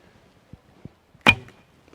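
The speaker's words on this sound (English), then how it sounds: "With these lightweight arrows. Makes some noise." A lightweight arrow shot from a Malaysian bow: two soft clicks, then one sharp, close snap of release with a brief ringing twang that fades quickly into quiet.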